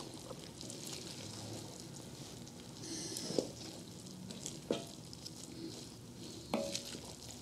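Tomatoes are stirred in a pan, a soft low sizzle under scattered scraping and clinking strokes of a utensil, quiet and fairly close with no talk.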